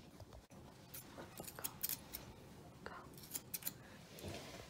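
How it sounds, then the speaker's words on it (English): Thinning scissors trimming an English springer spaniel's fur during show grooming, a series of quick crisp snips in irregular bursts, close up over faint background noise. "So I'm going to use my thinning scissors again."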